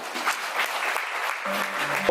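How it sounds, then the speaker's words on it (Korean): Wedding guests give a short burst of moderately loud clapping, a dense even patter over a brief stretch with a faint tone entering near the end. "큰박수로 함께 청해보겠습니다"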